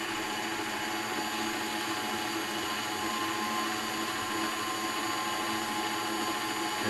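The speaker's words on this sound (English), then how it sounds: "We got the KitchenAid going." A KitchenAid stand mixer runs steadily throughout with a constant whirring motor drone, close and fairly loud, mixing apple cake batter with no talk.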